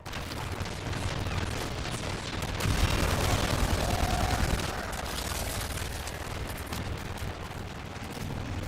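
Sustained gunfire rattles through a Warframe battle, a dense wall of rapid shots and booming impacts that swells louder in the middle before settling back to a steady barrage, with no voices over it.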